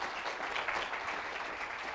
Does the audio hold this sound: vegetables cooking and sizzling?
no